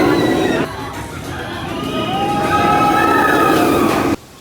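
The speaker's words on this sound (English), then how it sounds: "They're loading the train!" A roller coaster train at Busch Gardens Tampa rumbles and squeals along its track as it loads, a steady mechanical roar with rising metallic whines and crowd murmur, cutting off sharply near the end.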